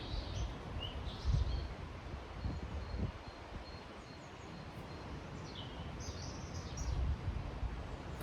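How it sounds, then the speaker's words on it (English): Many birds chirp and twitter at a distance along the Water of Leith river walkway in Edinburgh, over a steady outdoor wash of wind or flowing water, the calls scattered and fairly faint. "I don't know if you can hear this, but the birds are just like insane."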